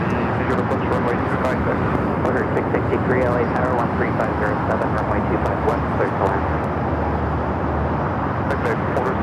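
An airliner on approach to LAX runway 25 left roars as a steady, loud broadband rumble across the whole stretch, with no break and no clear peaks, while radio chatter sits faintly underneath.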